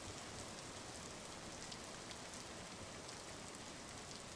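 Heavy rain in a game set in ancient Japan, a dense, even hiss of downpour drumming on surfaces, steady and unbroken from start to finish with no voices.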